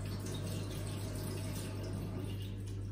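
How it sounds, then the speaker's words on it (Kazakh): Tap water running steadily into a sink during handwashing before an intramuscular injection procedure, a constant close hiss and splash with a low steady hum underneath and no talk. "Ағынды суды ашып, қолымызды шаямыз."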